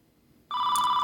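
A telephone suddenly starts ringing after a short quiet moment, a loud, steady electronic trill close by with no voices over it.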